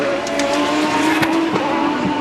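A Rocket Sport Racing race car at the 2003 Molson Indy Montreal qualifying passes with a loud engine roar and faint tire squeal, its pitch shifting as it goes by.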